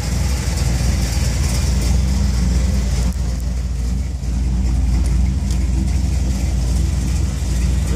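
A 1963 Chevrolet Impala 409 tribute idles steadily, a loud continuous engine rumble with broadband noise, no talking over it.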